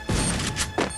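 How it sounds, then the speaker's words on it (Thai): A grenade thrown and exploding in the Free Fire battle-royale game: two loud, sharp blasts about two-thirds of a second apart, each a heavy crashing boom with a thudding low end, close and upfront. "ปาระเบิดไปหนึ่งเม็ด"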